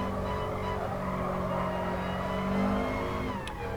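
A Gr. 4 race car at Lago Maggiore laps in a racing video game, its engine droning steadily at high revs with shifting pitch and faint tire scrub, loud and continuous.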